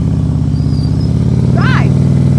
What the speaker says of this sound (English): I'm going to bring the throttle up into preload